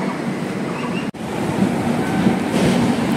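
Tinsukia–Bengaluru Express passenger train rolling past Kokrajhar station in Assam, heard from on board as a steady rumbling rush of wheels and carriage noise, with one brief dropout.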